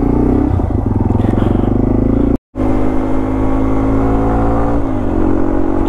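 A Yamaha TW200 dirt bike engine chugs steadily at close range, its low, even exhaust note rising as the rider pulls away, with a brief dropout midway and a small pitch shift near the end.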